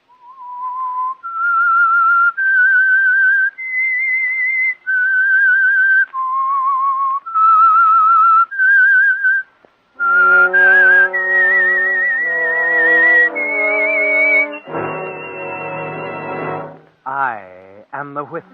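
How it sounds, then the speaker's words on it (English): The signature whistle of the 1947 radio drama The Whistler, a clear melodic whistle playing a slow tune of held notes, joined midway by a richer, buzzy tone and ending in warbling swoops. "That whistle is your signal"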